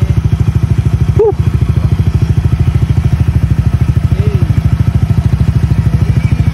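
A motorcycle engine idles loudly and close at a motorcycle show, a steady rapid pulsing throb with a brief clatter and light background voices.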